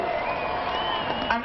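A large outdoor crowd at a swooping parachute competition final in Copenhagen applauds and cheers for a competitor, a steady dense wash of clapping and whoops heard briefly from a distance.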